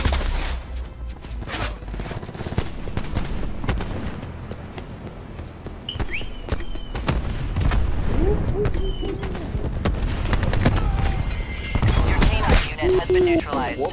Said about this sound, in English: Cluster grenade inbound.